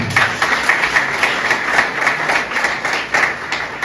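An audience claps through a speech event on health, a steady, dense patter of many hands at moderate distance, continuous without pauses.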